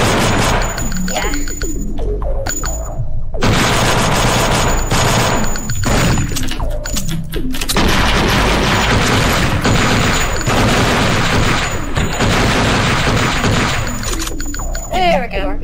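Loud, sustained machine-gun bursts from the Flash game Thing Thing 3, rapid fire interrupted by a few short gaps, with booms, shattering hits and someone talking over the action.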